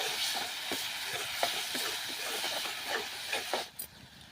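Onion, garlic, masala, Kashmiri red chili and green paste sauté in a pan for a beans dish, a steady soft hiss and sizzle broken by repeated light scraping stirs, with no talking.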